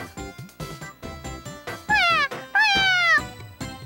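A cat in the Rush & Dream video game gives two drawn-out meows, the second longer, loud and close, after a run of short, clipped vocal sounds.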